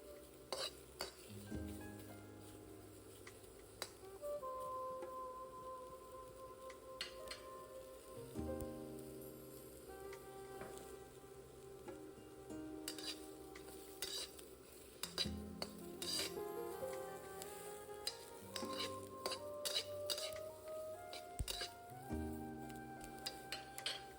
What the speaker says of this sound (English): Wait until the wok gets hot. Fry the peppers.